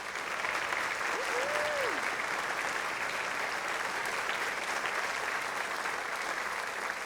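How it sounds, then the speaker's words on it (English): Audience at a high school spring concert applauding seniors, dense sustained clapping from a large crowd that holds steady throughout, with a short tonal sound early on. "can we give them a big round of applause?"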